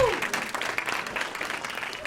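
Stand-up comedy audience at Governor's breaking into applause after a joke, a dense wash of clapping throughout with a brief vocal sound at the start.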